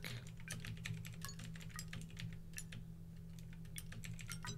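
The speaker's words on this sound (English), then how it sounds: "Probably just a lot of keyboard smashing right there." Computer keyboard hammered rapidly during a Resident Evil 2 Remake livestream, a dense irregular clatter of close keystrokes continuing throughout, with a low steady hum beneath.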